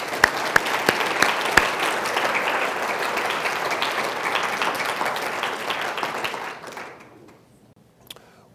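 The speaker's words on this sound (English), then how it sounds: "So let's give her a round of applause." An audience applauds a staff member at an Alzheimer's research center presentation, with sharp individual claps at the start swelling into a full, even round that fades out near the end.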